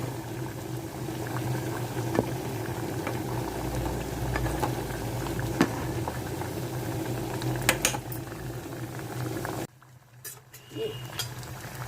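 Jaggery appalu deep-fry in oil with a steady bubbling churn that holds at a moderate level, then drops briefly near the end before light bubbling and a few clinks resume. No speech.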